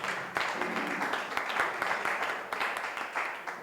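An audience at a press conference applauds in dense, steady clapping that rises sharply and holds for several seconds with small swells, heard at a moderate distance.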